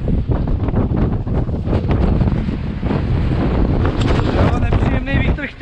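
A strong, gusty wind buffets the microphone on a farm, making a continuous roaring rumble with irregular bursts. A person talks briefly beneath the noise.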